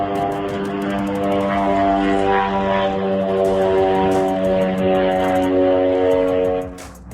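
A drone drones steadily overhead with a loud, sustained whine, holding close and constant before fading abruptly at the end.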